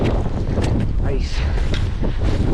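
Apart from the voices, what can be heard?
strong wind on a snowy mountain peak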